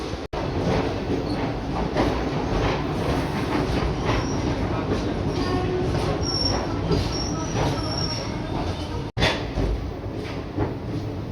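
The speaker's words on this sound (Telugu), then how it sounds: "చూసారా ఇదంతా చిన్న బోగి ట్రైన్ అనమాట సైడ్లో నిలబడింది" A small short-coach train standing at the side of a railway line on a long journey from Koraput to Lucknow, heard as a steady, loud rumble of rolling stock with faint high squeals, continuous and close throughout.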